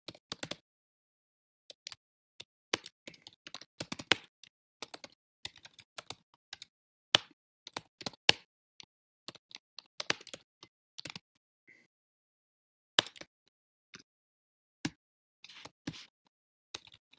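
Irregular bursts of computer keyboard typing, close and fairly quiet, with clustered keystrokes separated by short pauses and no talking.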